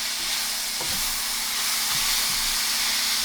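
Minced onion seasoned with salt and pepper cooks in a pan, giving a steady soft sizzle and hiss with a few faint clinks, no one talking.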